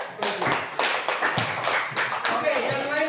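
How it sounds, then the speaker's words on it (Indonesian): Classroom clapping at a junior high school after a group presentation, a burst of hand claps from students that rises and carries on steadily for a few seconds, with voices mixed in. "Kita kasih tepuk tangan dulu untuk"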